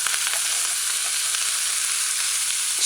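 Vegetables being stirred into a fish fillet stew with herbs, salt and pimento berries, giving a steady, close, continuous sizzle with faint scraping from stirring throughout.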